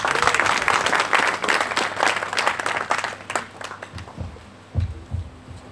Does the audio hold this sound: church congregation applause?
yes